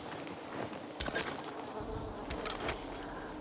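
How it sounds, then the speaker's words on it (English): Bees buzzing in the video game Dying Light 2: Stay Human, a soft droning hum with a few louder passes as insects fly close, heard alone without talk. "I can hear bees"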